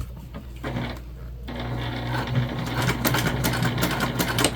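A sewing machine back stitches on a big tote bag in a close, rapid mechanical whirr with clicking pulses, pausing briefly at first and then running steadily to the end.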